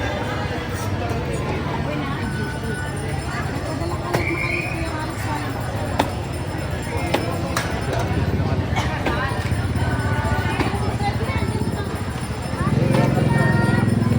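Horse hooves clip-clop at an outdoor market in Iba, Philippines, a steady near rhythm of sharp clops under nearby talk and crowd chatter.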